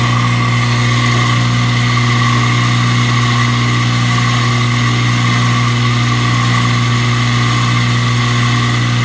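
A KitchenAid Superba dishwasher runs its cycle, giving a steady, loud motor hum with constant tonal drone and water churning, unchanging throughout.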